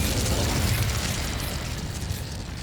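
Incendio fire spell cast in Hogwarts Legacy, a loud fiery burst and roar with a booming low rush that fills the moment and tapers slightly at the end.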